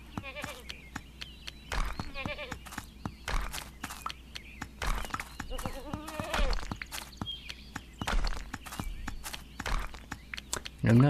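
Goats bleat in the video game Elsewhere, several short calls spread over a soft background of hoof-like clip-clop, while someone talks over them at times.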